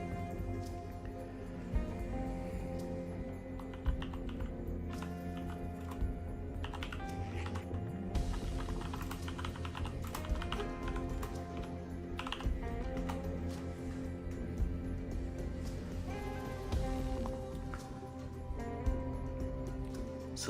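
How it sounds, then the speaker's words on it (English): Steady clattering keystrokes on a computer keyboard during a gaming stream, continuous light clicks with occasional heavier taps, layered over sustained tonal background audio. "So I do apologise if you hear me typing in the background."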